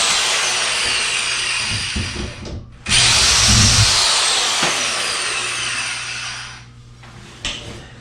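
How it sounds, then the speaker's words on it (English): A power drill runs during a DIY bathroom upgrade, a loud continuous motor whine close by that dips briefly, surges back up and keeps going, eases off near the end, then picks up again briefly. "You want the drill?"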